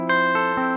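An electric guitar plays through a BOSS DD-20 Giga Delay pedal switched to bypass, giving a few quick, clean picked notes that ring briefly and dry, up close and alone.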